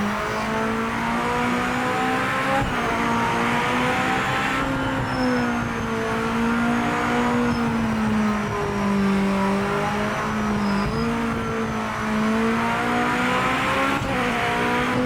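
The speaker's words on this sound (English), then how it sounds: "you can hear me sort of modulating the throttle" A race car engine in Project Motor Racing holds a steady drone that rises and falls as the throttle is fed in and eased off, loud and continuous, with a faint squeal of tyres underneath.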